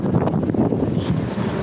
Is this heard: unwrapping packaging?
no